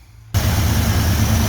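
A 1972 Chevrolet C30 truck, long abandoned on a farm, idling with its idle screw turned well in; a loud, steady low rumble starts abruptly and holds close and even.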